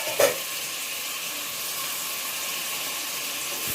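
Prawns and tomatoes sautéing in a pan for a kulambu, an even, close hissing sizzle that holds steady throughout after a brief clatter at the start, no voices.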